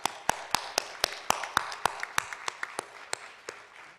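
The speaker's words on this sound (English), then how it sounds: "Please give the teachers a round of applause." Sparse, sharp individual claps from a small audience at a regional spelling bee, spaced about a quarter second apart with a few softer claps mixed in, close and clear over a quiet room.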